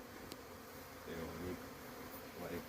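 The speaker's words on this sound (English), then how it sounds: "Bueno, gracias, Señor, por traernos esta abejita." Africanized honeybees buzz close by, a soft, wavering drone that swells and fades twice over a faint outdoor background, with a brief tap near the start.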